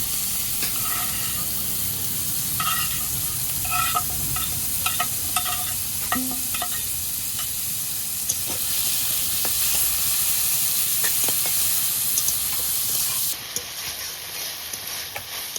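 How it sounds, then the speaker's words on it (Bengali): Shrimp frying in hot oil for a taro-leaf dish, a steady loud sizzle with scattered crackles and pops and occasional stirring clinks throughout, close up with no talk. "তেল গরম হয়ে গেছে, মাছগুলো দিয়ে দিচ্ছি, হালকা করে ভেজে নেব।"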